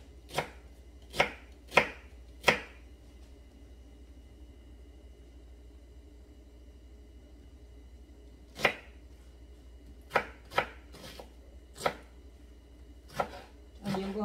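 A knife chops onions on a board. Four quick cuts come close together, then a long pause, then a looser run of sharp, clear strikes. The sound is near and there is no talk.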